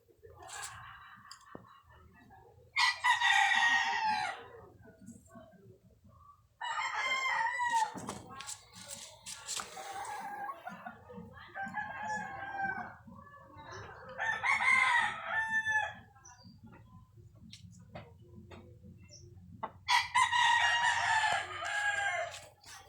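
Sweater and Gilmore gamefowl roosters crow again and again, loud and close, each long cock-a-doodle-doo separated by short pauses, with some clucking and a low steady hum underneath.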